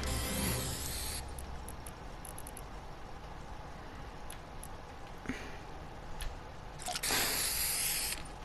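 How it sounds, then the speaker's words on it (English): Spray can hissing in a room, a long steady hiss at the start, then brief bursts and one more strong spray near the end, with soft clicks in between. "Wait, can we spray on the ceilings a bit?"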